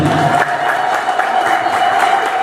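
An audience at a church program applauds and cheers in a steady, loud wash of clapping, with voices mixed into the crowd noise.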